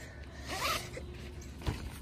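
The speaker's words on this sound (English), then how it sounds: "did the zipper get stuck again?" Faint zipper pulled in a short rasping stroke that snags, followed by a brief thump, outdoors at night in a cold, wet grassy forest, with no talk over it.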